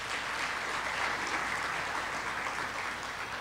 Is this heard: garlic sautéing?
no